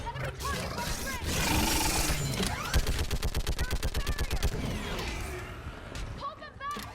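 Sustained automatic gunfire in a Mass Effect Legendary Edition battle, a rapid even burst of shots at the center with combat noise and voices before and after.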